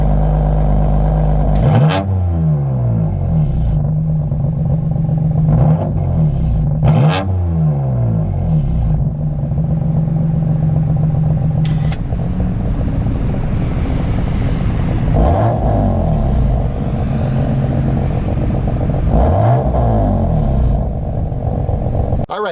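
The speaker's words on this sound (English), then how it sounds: "revving it in Sport Plus, and then revving it in efficient mode" A BMW F80 M3's engine revs repeatedly in Sport Plus and efficient modes, each rev climbing sharply and falling back, loud and close over a constant deep idle rumble.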